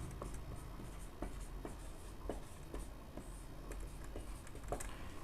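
A pen scratches quick shorthand strokes onto paper, making soft, close, irregular scribbling taps in a quiet room with no talking.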